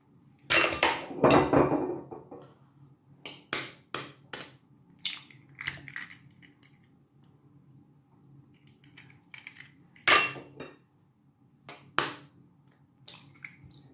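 Four eggs being mixed into Nigerian meat pie filling in a large bowl, with irregular scraping and clattering bursts of a utensil against the bowl, loud at first and then in shorter separate knocks.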